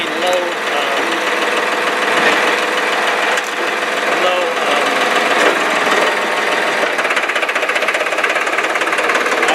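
A loud 2004 Farmtrac 435 tractor diesel engine idles with a steady rapid knocking rhythm, close and continuous throughout.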